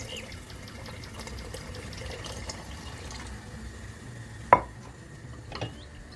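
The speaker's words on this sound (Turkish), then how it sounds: "Hafif üzerini geçecek şekilde suyumu ilave ettim." Water is poured into a pot of meat kebab stew, a steady low splashing wash with a sharp metallic clink near the end and a lighter knock after it.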